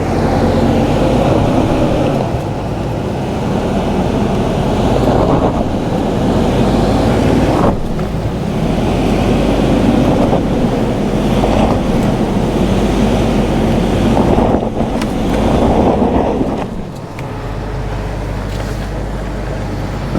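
A Toyota Sequoia Platinum SUV crawls off-road in 2-wheel drive, its engine and tires making a continuous loud rumble mixed with heavy wind buffeting, steady for the whole stretch with a brief dip near the end.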